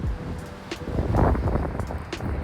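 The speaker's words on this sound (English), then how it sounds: "Wind up here is probably 50 miles an hour. It is just gusting through here." Strong, gusty mountain wind at about 50 mph in Guadalupe Mountains National Park roars and buffets the microphone, swelling louder in the middle with a deep rumbling undertone. No voices.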